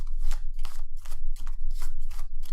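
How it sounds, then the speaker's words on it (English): A deck of playing cards is shuffled close up during a solo game, about seven quick riffling bursts in steady rhythm with no talk. "And shuffle this up real quick."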